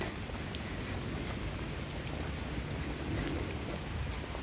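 Steady rain hisses evenly throughout in London, a soft continuous patter with no voices.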